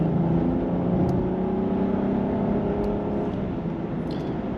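A BMW 740Li's inline-six engine pulls the big sedan along a twisty road, giving a steady, full engine drone with road and wind rush that holds evenly throughout, with no talking.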